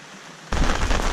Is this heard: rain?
yes